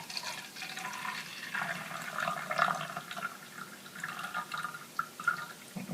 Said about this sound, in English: I got one small jar, and I'll take it and I'll pour it in